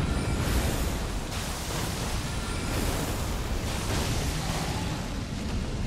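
An ancient dragon in Elden Ring breathing fire, a continuous loud roaring whoosh of broadband flame that surges and sustains for several seconds with no talk over it.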